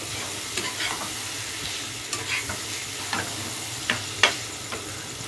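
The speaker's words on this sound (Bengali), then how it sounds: "দিয়ে ভালো করে এটাকে ভাজা ভাজা করে নেব" Fish innards seasoned with turmeric and chili powder sizzle steadily in hot oil in a pan, with several sharp scraping stirs of a spatula cutting through the frying hiss.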